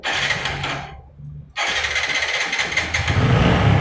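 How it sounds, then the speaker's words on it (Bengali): TVS Apache RTR 4V motorcycle engine running out of carburettor fuel: a close, loud engine note cuts out into a brief silence, then fires up again with a sharp restart and settles into a steady, rough running sound. "আবার স্টার্ট হয়েছে।"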